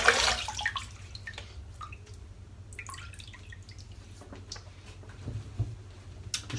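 Water splashes and drips close by as a face is wetted during a wet shave, with scattered droplets and small splashes in an irregular rhythm over a quiet background.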